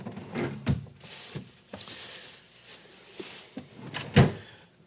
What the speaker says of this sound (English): I was looking for the bell pepper. That's the wrong drawer.